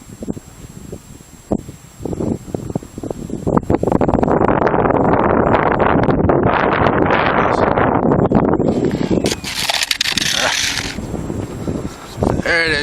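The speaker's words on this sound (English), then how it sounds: "A little windy today" Strong outdoor wind buffets the microphone in loud, rumbling gusts at a grassy flying field where a Multiplex Blizzard model plane is flown, building up and staying heavy for most of the stretch.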